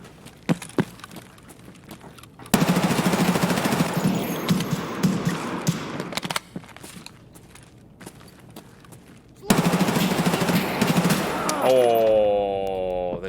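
Shotgun blasts in the video game Escape from Tarkov, a few sharp bursts of gunfire amid dense noisy stretches of combat sound and footsteps, ending with a rising tonal effect; a voice talks at moments.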